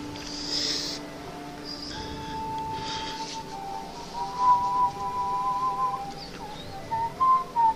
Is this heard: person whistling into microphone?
yes